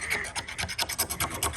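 A small knife scrapes wood during the build of a catamaran sailboat, giving a close, rhythmic series of about ten short rasping strokes, each distinct and fairly steady, with no talking over them.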